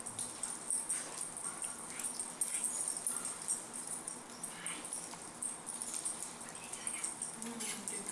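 A shelter dog whimpers softly, with thin, high, intermittent whines and faint snuffles repeating over quiet room noise, no clear speech.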